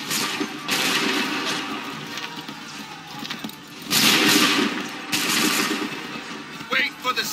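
Musket volleys in Assassin's Creed 3 during the 1775 Lexington and Bunker Hill battles, repeated crackling bursts of massed gunfire in waves, loud and rolling, with shouted voices over the battle.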